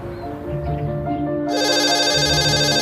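Telephone ringing in the Memento Mori video game, a steady electronic ring with layered bright tones that grows fuller and brighter partway through, loud and close over a low background hum.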